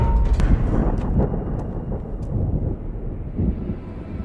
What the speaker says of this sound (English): The storm's moving away from us.